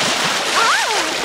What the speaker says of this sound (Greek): Αρκετά με τα πλατσουρίσματα.